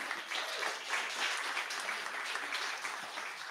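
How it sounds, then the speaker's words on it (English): Audience applause at a book talk, a fairly quiet, dense patter of many hands clapping, steady and sustained from start to finish with no speech over it. "I think he deserves an applause for that."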